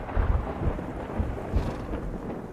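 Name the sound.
thunder before rain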